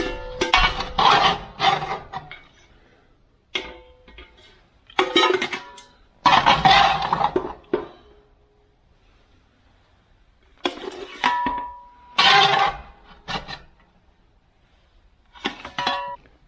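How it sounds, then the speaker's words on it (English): Charcoal and ash being scraped and shoveled out of a Jotul 602 wood stove, heard as irregular clinks and metallic scrapes in short bursts separated by quiet pauses. "I clean out my wood stove, mainly to get the charcoal out of it"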